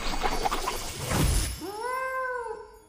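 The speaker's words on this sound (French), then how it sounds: "C'est un petit chat." After some rustling and clatter, a kitten in Hogwarts Legacy lets out a single drawn-out meow, clear and close, with a rising then falling pitch.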